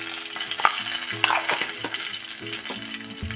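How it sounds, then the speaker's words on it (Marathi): Coarse spice mix with asafoetida and curry leaves sautéed in oil over a low flame for chilli vada, giving a continuous close sizzle with crackling pops and occasional scraping stirs. "आणि ही आता मसाल्याची भरड ह्यामध्ये परतून घेऊया"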